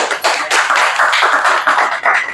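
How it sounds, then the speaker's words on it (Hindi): A live audience claps together at a motivational business seminar, dense steady applause filling the room with no talking. "एक बार तालियां बजाओ पहले तो"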